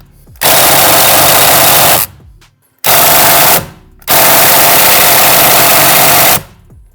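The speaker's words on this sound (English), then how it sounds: "The electric impact wrenches aren't strong enough to take this off" Electric impact wrench with a T50 Torx bit hammering on a steering wheel bolt of a 6th-gen Camaro ZL1, three loud sustained rattling bursts separated by brief pauses.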